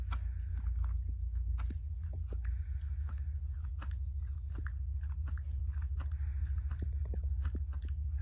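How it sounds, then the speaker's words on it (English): Slow, repeated chewing and crunching from a cow chewing its cud in a barn, close up, with a steady low rumble underneath and irregular moist grinding sounds. "If anybody ever wondered what a cow sounds like chewing its cud"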